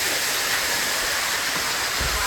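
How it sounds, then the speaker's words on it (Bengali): A waterfall near the Garden of Caves in Cherrapunji pours down in a steady, dense, close rushing roar that stays constant throughout, with no voices. "এই যে ঝর্ণা এদিকে, এই দেখো কি সুন্দর ঝর্ণা"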